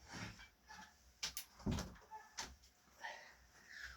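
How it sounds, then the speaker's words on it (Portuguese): An indoor door being pushed shut, heard as a few soft knocks and a dull thud with light rattling in a quiet room. "Deixa eu só encostar essa porta aqui, que tem um barulho aqui"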